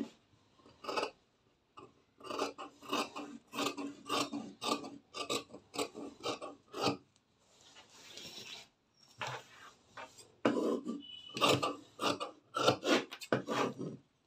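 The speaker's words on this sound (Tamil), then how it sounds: "இப்ப கை பீஸ் கட் பண்ணிக்கலாம்" Scissors cut a blouse sleeve piece from cloth in quick, rhythmic rasping snips, close and steady, with a short pause of softer rustling before the snipping resumes.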